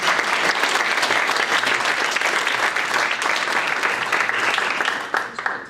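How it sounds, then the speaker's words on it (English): An audience at a teen celebration event bursts into dense, sustained applause, loud and continuous from a room full of hands, tapering slightly at the very end. "Can we give Julie a round of applause?"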